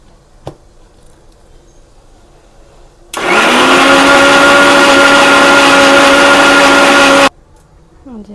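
A kitchen mixer grinder whirs loudly and steadily for about four seconds as it grinds poppy seeds and water into a smooth paste, starting abruptly and cutting off just as suddenly, with a quiet room before and after.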